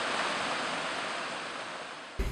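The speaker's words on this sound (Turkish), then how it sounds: "Doğal güzelliğiyle ünlü Karadeniz'in saklı cennetlerinden biri Erfelek Tatlıca Şelaleleri." Water pours at Erfelek Tatlıca Waterfalls in Sinop on the Black Sea coast, a steady, loud broadband roar that holds for a couple of seconds before cutting off abruptly.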